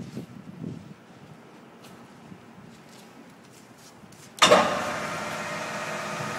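A 17 x 45 inch TRAK CNC toolroom lathe spinning up to high RPM, a sudden loud jump into a steady broad whirring hum after a quiet stretch of low mechanical noise.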